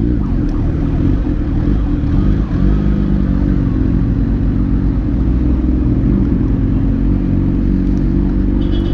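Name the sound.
Kawasaki ZH2 motorcycle riding in traffic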